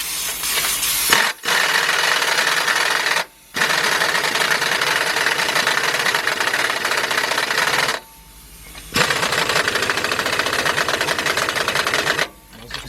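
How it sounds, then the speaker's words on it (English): A pneumatic impact gun tightens the bottom nuts of the rear shocks on a 1999 Isuzu Rodeo LS 4WD, hammering in loud, continuous rattling bursts with a few brief pauses between them. "air gun. And now we're going to tighten up these bottom nuts."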